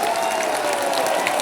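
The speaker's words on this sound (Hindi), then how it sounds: "तालियों की गड़गड़ाहट से और अपनी आवाज से" A crowd applauds to welcome a speaker at an event, a dense steady patter of clapping throughout the brief moment, with a faint tone lingering beneath.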